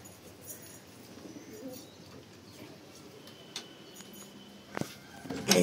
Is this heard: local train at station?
no